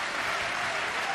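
Snooker match audience applauding steadily, a dense even wash of clapping filling the short moment without pause.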